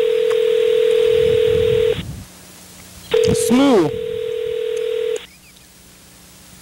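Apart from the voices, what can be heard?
telephone dialing tones while placing a call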